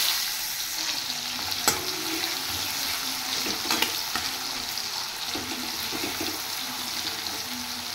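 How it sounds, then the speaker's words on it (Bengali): Chopped onions fry in oil in a pan after fish, a steady broadband sizzle running the whole time with a few sharp crackles and scraping stir sounds, no voices. "এবার আমি তেলে দিয়ে দেব কুচিয়ে রাখা পেঁয়াজ"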